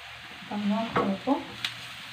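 Onion stirred in hot oil in a frying pan, with short scraping strokes and soft sizzling up close, a few brief bursts over a quiet background.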